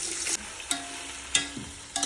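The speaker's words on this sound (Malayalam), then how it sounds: "ഇതിലേക്ക് നമുക്ക് ഈ ഫുള്ള് ഉള്ളിയും കൂടെ ഇട്ട് പൊരിക്കാം" Onions sizzle steadily in hot oil in a large pot, with several short scraping clinks of a utensil stirring at irregular intervals.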